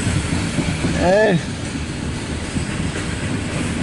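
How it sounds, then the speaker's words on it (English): A loaded coal train rolls past, producing a steady broadband rumble with a brief squeal of wheels early on, while someone calls out a short word. "I was wondering when I was going to see them coal trains."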